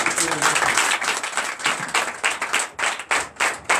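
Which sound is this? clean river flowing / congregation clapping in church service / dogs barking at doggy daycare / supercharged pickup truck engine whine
congregation clapping in church service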